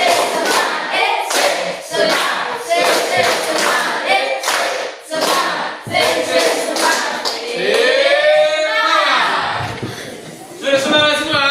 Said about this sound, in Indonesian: 1 kali tepuk semangat. 2 kali tepuk semangat. 3 kali tepuk semangat.